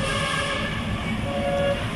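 MRT train passing near Shaw Boulevard station in Metro Manila, a loud, continuous rumble of rail cars with a steady high whine running throughout.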